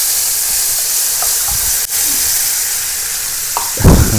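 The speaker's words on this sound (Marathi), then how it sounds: "आता ही पेस्ट चांगली परतून घ्यायची" Spicy boi fish curry masala paste fries in hot oil, a loud steady sizzle and hiss with occasional stirring scrapes and a brief spatter burst at the end.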